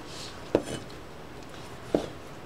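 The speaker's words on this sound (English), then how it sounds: "Mainly preparing pico just means chopping up tomatoes" Two sharp knife strikes on a cutting board, about a second and a half apart, as tomatoes are chopped for pico de gallo; close and fairly quiet.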